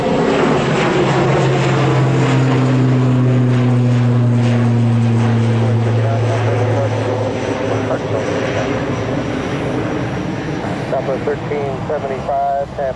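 An Airbus A320 airliner in from Houston at Tampa airport gives a loud, close jet engine roar with a whining tone that slowly fades, and a voice can be heard faintly.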